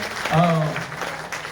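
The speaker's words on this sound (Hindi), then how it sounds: "तो महिलाओं, आप तालियां तो बजा दीजिए" A brief burst of applause from the audience at a stage programme, with a voice briefly heard over the clapping at the start before a short, even patter carries on.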